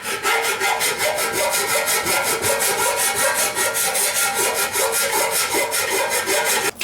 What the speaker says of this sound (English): You're not breaking any land speed records using these files either.